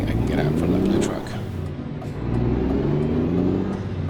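A Renault Magnum truck engine in Euro Truck Simulator, driving in Scandinavia, drones and rises as it accelerates, a steady mid-pitched hum with shifting tone.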